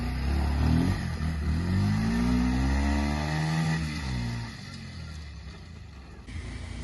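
A motorcycle engine revs during a bike race, rising and falling in pitch close by, with a steady rumble and background noise.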